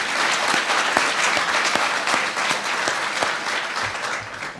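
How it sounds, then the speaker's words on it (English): Audience applauding the McKinsey team at an education event in Washington, a steady dense wash of clapping with sharp individual claps standing out, loud and sustained with no talk. "Let's give them a huge round of applause for great, great work."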